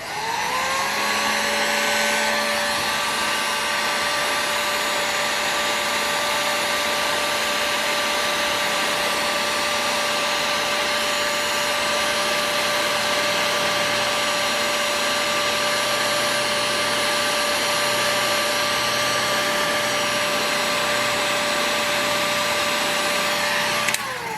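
A heat gun blows steadily and loudly on a stuck carburetor of an Irvine 40 model engine, giving a continuous whirring roar with a high whine that holds for the whole stretch.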